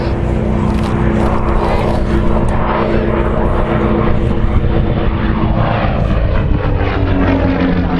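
Provost propeller trainer with a 550-horsepower United 126 nine-cylinder radial engine flying past, a loud, steady droning roar that fills the whole clip with no pauses.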